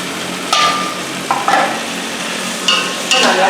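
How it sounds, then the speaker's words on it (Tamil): Chicken with chopped tomato and slit green chilies being stirred in a pan, a steady sizzle broken by several short scraping strokes of the spoon against the pan. "நல்லா கிளறி விடுங்க."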